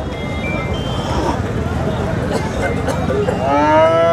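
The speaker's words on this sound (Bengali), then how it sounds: "এই ষাঁড়টি একবারে অরিজিনাল দেশি ষাঁড় গরু" A young native desi bull at a Bangladeshi cattle market lows with a rising, drawn-out moo near the end, over steady crowd chatter and engine noise.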